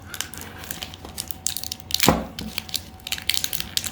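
Crackling, crinkling rustles of plastic packaging being handled and torn open up close, with one louder crunch partway through.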